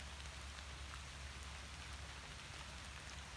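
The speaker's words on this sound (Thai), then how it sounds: "ฝนตกเยอะจริง ๆค่ะ" Heavy rain pours down steadily at night on a southern Thai rubber plantation, a dense continuous hiss of drops hitting surfaces with no pauses and no voices.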